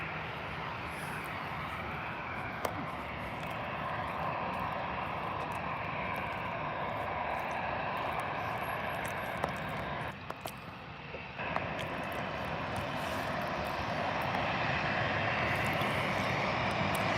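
An Airbus A321 taxiing at Birmingham airport gives off a steady, broad jet engine roar from a moderate distance, holding an even level throughout with no talk over it.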